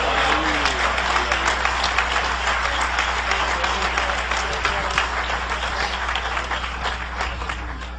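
Church congregation applauding during a sermon, a loud sustained burst of dense clapping from a crowd filling the whole stretch and slowly easing toward the end, with a hum underneath.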